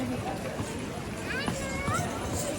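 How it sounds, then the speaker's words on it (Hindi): Horses clip-clop through a dense night crowd of pilgrims on the route to Vaishno Devi. The hoof clops are partly buried under a constant murmur of crowd chatter and voices. "घोड़े वगैरह बीच में आ जाते हैं।"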